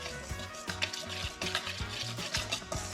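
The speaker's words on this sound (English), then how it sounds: "I'm gonna use my whisk so I don't want that layer. I'm gonna mix them up." Dry ingredients for keto cranberry walnut bread being whisked in a bowl, with quick soft scraping strokes and light taps repeating in a brisk rhythm, close but quiet, and no voice.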